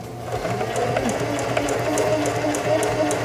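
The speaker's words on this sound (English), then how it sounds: "Release the reverse lever and sew down the seam." A Singer 4411 heavy duty sewing machine runs steadily, stitching a seam in fabric with a continuous loud motor whir and a rapid, even needle patter, heard alone.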